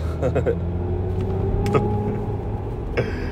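A 2023 Mercedes-EQ EQE 350+ electric car plays its synthetic sci-fi drive sound, a steady humming tone layered over low road rumble from inside the cabin, with a few faint clicks and knocks.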